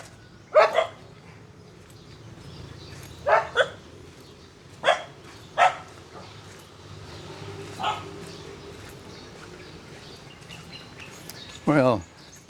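Dogs bark in the Philippines, several sharp separate barks in short pairs spread across the scene, moderately near, with birds chirping and a voice speaking faintly in between.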